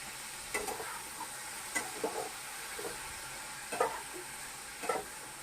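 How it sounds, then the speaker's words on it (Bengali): Food being stirred in a frying pan, with a steady low sizzle under a handful of distinct scraping strokes spaced about a second apart, close and fairly quiet, no voices. "নাড়াবো"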